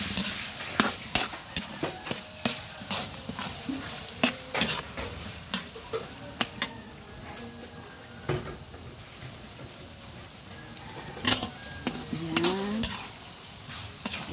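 Chicken pieces fry in a pan with onions, sizzling steadily while a utensil stirs and scrapes in repeated sharp knocks and clatters, close and loud with no talk.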